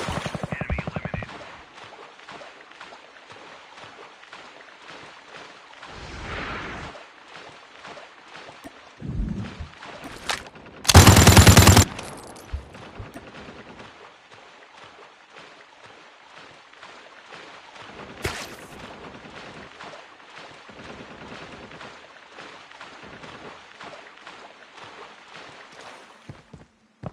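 Video game gunfire from a CSS 9 SMG rifle: bursts of shots scattered through a busy game soundscape, with one very loud blast near the middle and further sharp reports later, alongside game voice lines.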